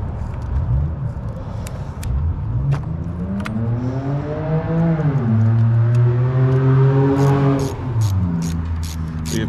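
A car speeds past on a town street, its engine note climbing steadily as it nears, peaking up close and loud, then dropping in pitch as it moves away.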